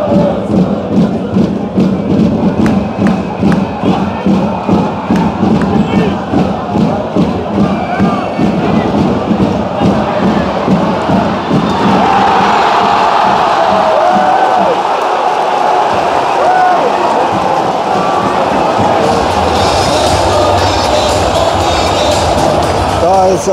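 Crowd roaring in the sold-out Böllenfalltor stadium at SV Darmstadt 98 vs 1. FC Köln, rhythmic stamping and chanting pulsing steadily, then swelling into a sustained loud roar of cheering, with someone talking close over it.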